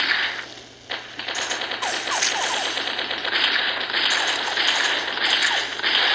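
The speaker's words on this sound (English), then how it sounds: "sometimes you start out with a machine gun" Rapid machine gun fire rattles continuously in a video game, dense mechanical bursts with brief pauses, loud and close.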